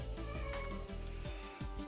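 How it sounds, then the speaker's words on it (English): A cat meows close by in a short, drawn-out call with clear harmonic tone, followed by a couple of briefer softer mews, all within two seconds and heard alone without talk. "That's a cat."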